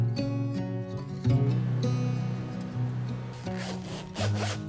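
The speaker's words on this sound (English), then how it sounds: "Right now we are fairing and sanding the hull so that it will look completely smooth" A sailboat hull under construction is faired and sanded smooth, giving a steady abrasive rubbing drone with a humming tool tone and short surging strokes throughout, close by and with no talk.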